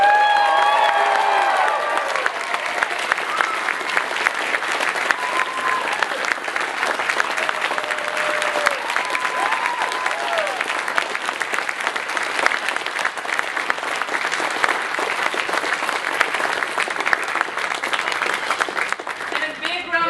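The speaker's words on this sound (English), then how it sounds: "I want you to go completely crazy for all of our incredible puppeteers" A live crowd at a sock puppet show claps loudly and steadily for the puppeteers, a dense sustained roar of hands with a few scattered whoops, and a voice speaks briefly over the opening seconds.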